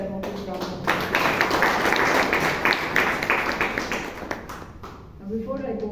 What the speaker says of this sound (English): Let's give both of them a big round of applause.